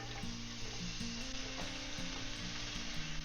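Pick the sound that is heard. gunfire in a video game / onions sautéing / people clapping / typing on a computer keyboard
onions sautéing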